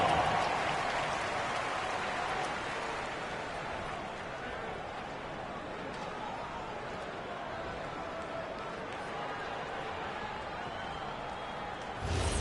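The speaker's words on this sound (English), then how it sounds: "Let's give them a big round of applause." Crowd applause from the arena audience at a Sixers versus Nuggets basketball game in NBA 2K26 on PS5, a steady broad wash of clapping and crowd noise throughout at moderate level.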